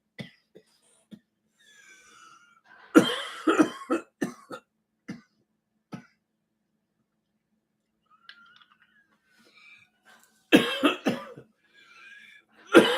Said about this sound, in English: I'm still coughing and wheezing and sneezing.